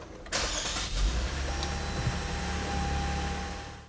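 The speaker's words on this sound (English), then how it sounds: "that will allow us to start the car" A 2014 Lexus IS 250 engine cranks and catches, then settles into a low, steady idle, heard from inside the vehicle.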